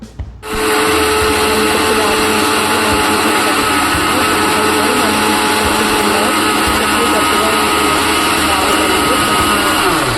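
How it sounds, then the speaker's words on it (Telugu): Close, loud mixer grinder grinding peanut-tomato chutney at a steady, unbroken whir from start to finish, with no voices over it. "మళ్ళీ నేను మిక్సీ పట్టుకున్నానండి"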